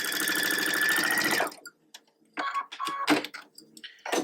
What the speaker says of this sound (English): I'm just going to sew slowly at first and then all the way off